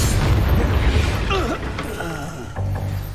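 Spell blasts and impacts from Incendio and other combat spells in Hogwarts Legacy, a dense rumbling burst with swooping tonal whooshes and a fresh low boom near the end, loud and continuous throughout.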